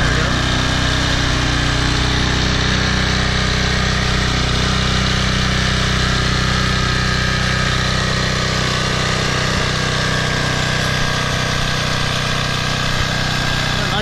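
A Toro Personal Pace 20333 walk-behind lawn mower runs steadily on a new aftermarket carburetor, its small engine droning loud and close with a constant buzz throughout and no talk.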